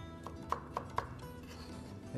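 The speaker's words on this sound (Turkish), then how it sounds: "Kuşbaşı şeklinde doğrayalım." A knife chops vegetables into small cubes on a board, a few sharp, evenly spaced taps close by, faint and quick, with no one talking.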